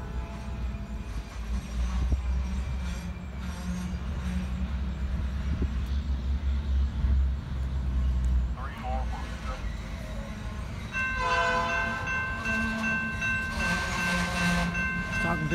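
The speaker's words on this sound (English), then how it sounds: "Now he's going to back up and tie on to the rest of the train and head north." A West Virginia freight train backs up to couple onto the rest of its cars, a heavy continuous diesel rumble with rolling rail noise, then a higher squealing and ringing tone joining near the end.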